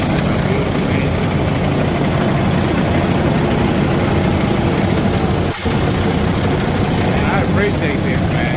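A truck engine with a Cat motor runs at a steady, loud, low idle for the whole stretch, close by and unbroken apart from a momentary dip near the middle.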